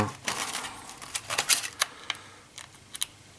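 Parts of an Eaglemoss 1/8 scale Ecto-1 model are unpacked with light plastic clicks, rustles and small taps, quiet and close, in irregular bursts that thin out toward the end.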